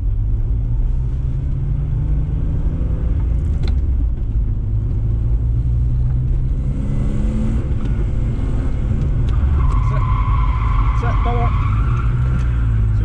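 Car drifting and skidding after a handbrake pull: a continuous engine rumble with rising tyre squeal and skid noise, heard close up under a person talking.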